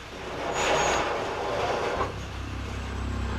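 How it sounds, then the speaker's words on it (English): A steam train standing still outside a house lets off a broad burst of hissing steam with a brief high metallic squeak, settling into a lower, steady rumble. "From outside came the sounds of hissing steam and squeaking metal."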